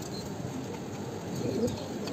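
White Beauty Huma pigeons in a cage, a running pair with a female, coo softly, with low murmuring calls rising slightly toward the end over a steady background hum.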